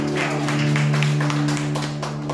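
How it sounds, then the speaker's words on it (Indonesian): A church congregation claps together in a steady rhythm during an Indonesian Sunday worship service, the claps sounding over a sustained keyboard or organ chord. "Tepuk tangannya bisa lebih dahsyat lagi saudara buat Tuhan"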